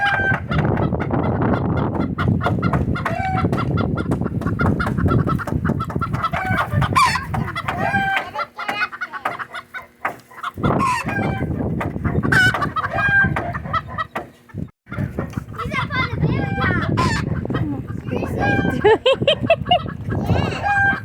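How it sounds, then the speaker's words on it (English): A chicken indoors clucking repeatedly and crowing, close and loud, mixed with lively talk and children's voices, with a brief quieter pause partway through. "Get down, chicken!"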